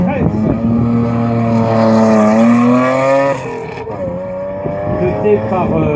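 A 1977 Alpine A310 V6 Group 5 race car climbs a historic hillclimb course. Its engine revs loudly and close with a rising, harmonic-rich howl, then drops and picks up again, while someone talks over it.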